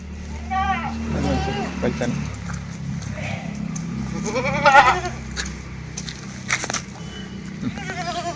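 A goat bleats a few times at moderate distance while a person talks nearby over outdoor background noise at a livestock sale.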